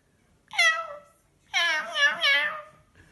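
A voice imitates a cat, giving one short meow followed by a longer, drawn-out wavering meow, close and clear with quiet around it.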